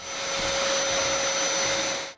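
A household vacuum cleaner runs at full power close up, a loud steady whine with a rushing airflow roar and a fixed pitched hum, cutting off abruptly at the end.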